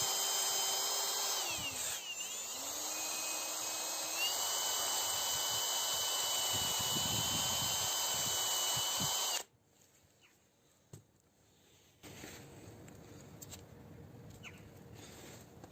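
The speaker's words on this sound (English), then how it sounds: "You need the bit like this one or bigger to grind it off, or with grinder" A drill bit grinds off part of a Toyota Prius ABS pump with a loud, steady whine that stops abruptly after about nine seconds. Quieter shop noise and a faint resumed hum follow, with no talking.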